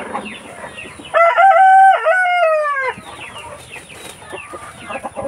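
A native rooster on a rural farm lets out one loud, drawn-out crow lasting about two seconds, close by, with softer clucking from other chickens before and after.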